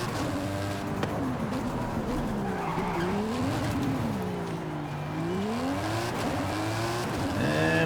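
Race car in Forza Horizon 5 skidding through corners, its engine pitch rising and falling in sweeps under squealing tires, continuous and close.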